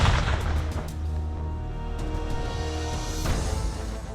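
Explosive charge detonated during KOPASKA Indonesian navy frogman combat training, a heavy booming blast with rumbling low-end aftermath and sharp cracks, loud and close, with no talk.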